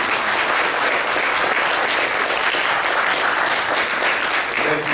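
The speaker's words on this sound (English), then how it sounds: "A round of applause for our panelists." A large audience applauds panelists at the close of a panel discussion on Malcolm X, Islam and hip hop, dense steady clapping filling the whole stretch at full volume, with a faint tone near the end.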